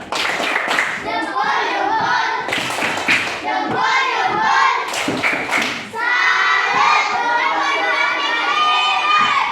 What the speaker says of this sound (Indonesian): Salut untuk kelompok 2. Tepuk salut.